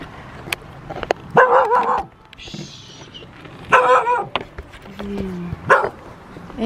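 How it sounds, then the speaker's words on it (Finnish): A dog barks and yips in three short bursts spaced a couple of seconds apart, moderately near, while a person speaks in between. "Koira menee tossa vaan."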